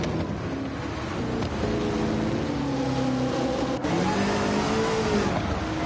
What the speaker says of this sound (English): Now you can really hear the throttle work and the steering wheel work of what these cars are going through right now